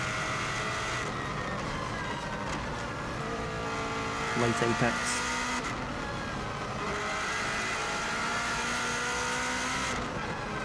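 A Subaru race car's engine drones steadily on the Isle of Man TT course, a sustained loud in-car roar with gear changes, under someone talking throughout.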